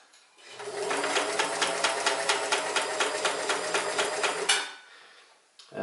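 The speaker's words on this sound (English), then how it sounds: "I'm going to start with just a straight stitch." A Sears Kenmore 158 sewing machine runs a straight stitch in one steady burst of about four seconds, a fast even clatter of needle strokes close by before it stops.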